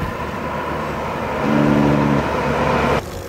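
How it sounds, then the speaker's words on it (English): Semi trucks roll past on a road beside a cyclist, a broad steady engine and tire roar that swells in the middle as a rig passes close, then cuts off abruptly near the end. "here comes some semis"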